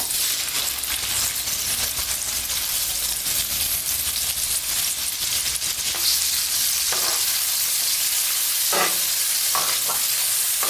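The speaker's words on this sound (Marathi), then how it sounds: "आता मी टाकते तेल ह्याच्यामध्ये कांदा" Onion drops into hot oil already seasoned with cumin, setting off a loud, bright sizzle that continues steadily, with several sharp metallic clinks of a spoon against the pan toward the end.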